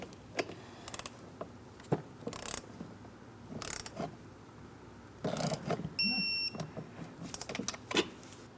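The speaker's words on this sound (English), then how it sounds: "Now I'm going to see if I can get my torque wrench into this one." Ratcheting torque wrench clicking on a thermostat housing bolt of a 2003-2007 Cadillac CTS 3.6L V6, heard as bursts of close mechanical ratchet clicks and metallic ticks with short pauses, plus a few brief high tones.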